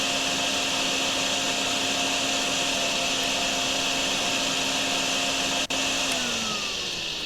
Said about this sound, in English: Okay, so the vacuum's now full.